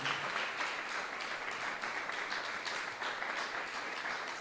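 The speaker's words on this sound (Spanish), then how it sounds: "Si lo crees, dale un aplauso al Señor" Congregation applause during a church sermon, a steady, moderately distant roll of many hands clapping together, continuing evenly without speech.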